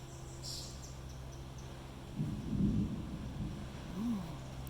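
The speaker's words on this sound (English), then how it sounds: "Thunder." Thunder from a spring storm rolls in as a low, muffled rumble about midway, swelling briefly and then fading. A faint steady insect chirp runs underneath, with a short whine near the end.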